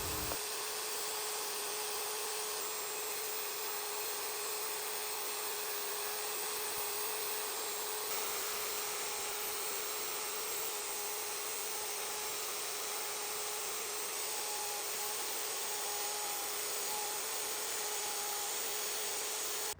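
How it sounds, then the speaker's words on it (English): A CNC router with a 1/8 bit carves wood, giving off a steady, quiet spindle whine over a soft, even cutting hiss that runs unbroken throughout. "Now we're going to carve the background out before I move on to the bigger bit and carve out the rest."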